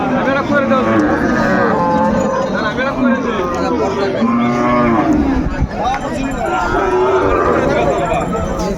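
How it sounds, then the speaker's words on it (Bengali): Cattle low at a busy cattle market in Kushtia where Sahiwal bull calves are traded, with loud, close moos under constant crowd chatter and talking. "বেশ সুন্দর সুন্দর গরুগুলো কালেক্ট করছে আমাদের বেলাল ভাই"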